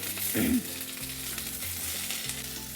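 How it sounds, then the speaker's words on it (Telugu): Green chillies and onion pieces sizzling in a pan, a strong burst of frying as they hit the hot oil, then an even sizzle with light stirring. "అలాగే పచ్చిమిర్చి, ఇవి మంచిగా వేగాలి."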